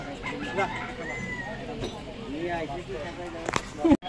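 Chickens clucking at a busy bird market where parrots and pigeons are also sold, short scattered clucks mixed into steady crowd talk nearby, with a couple of sharp louder calls near the end.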